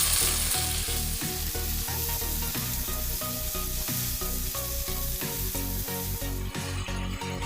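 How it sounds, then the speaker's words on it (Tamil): Green turkey berries sauté in hot oil with a loud, constant sizzle and crackle, cut by regular scraping stirs of a spoon against the pan and nobody speaking. "அதன் பிறகு நல்லா எண்ணெயில் வதக்கணுங்க"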